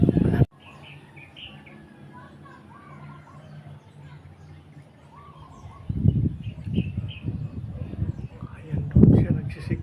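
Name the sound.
golden bird calling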